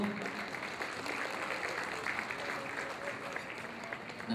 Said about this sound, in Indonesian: Tepukan yang gemuruh.